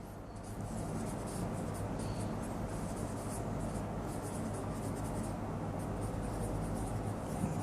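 Math wording is written steadily on a board during a lesson, a soft continuous scratchy rub at a faint, even level with no pauses or talking.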